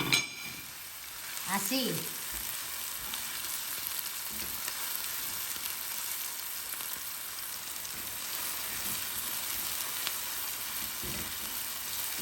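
Chopped onion frying in a hot pan gives a steady, fairly soft sizzle that runs throughout, with a brief voice near the start.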